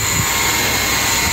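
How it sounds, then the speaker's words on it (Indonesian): A three-phase electric motor running in star connection on an automatic star-delta starter gives a steady, loud whirring hum that holds evenly throughout, with no voices. "Kita tekan push buttonnya dan motor akan berputar bintang"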